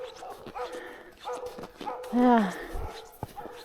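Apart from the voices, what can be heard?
dog barking at a house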